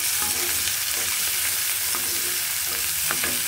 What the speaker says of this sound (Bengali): আমি পেঁয়াজটা ভেজে নিচ্ছি